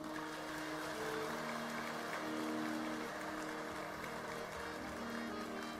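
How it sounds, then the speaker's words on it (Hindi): Large audience clapping at a Ram Katha religious gathering, a steady dense wash of applause held throughout, with no distinct voices. "सुंदर ताली बजाइए तो एक बार आप लोग।"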